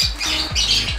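Harsh, loud squawks from a pet budgie or parakeet, close by, in a quick sequence of sharp calls with no one talking.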